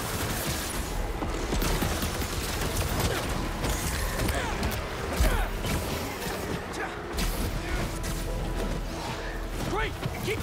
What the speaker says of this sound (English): They're shooting stuff at us!